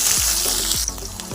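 Chopped onions and dried fish fry in hot oil in a wok, giving a steady close sizzling hiss with soft low clunks and stirring sounds beneath.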